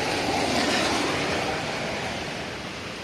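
Orchids being watered: a steady close rush of spraying water hiss, even and continuous, fading slightly toward the end, with no talking.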